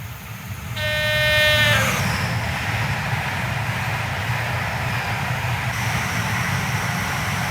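A video-game HST high-speed train in Train Simulator 2021 roars along steadily through Loughborough on the Midland Main Line, a loud continuous rumble with a brief high horn-like tone near the start.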